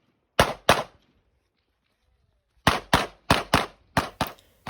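Pistol shots fired during an action pistol competition stage, two quick cracks, a pause of nearly two seconds, then a rapid run of about seven more shots, loud and close with no talk.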